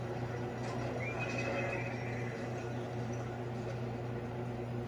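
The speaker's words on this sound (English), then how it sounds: "I think we need to get your mechanical horse fixed because it seems to be malfunctioning." A synthetic, slightly warbling whinny from a malfunctioning mechanical horse in BioShock Infinite rises over a steady low electronic hum, sounding artificial rather than like a real animal.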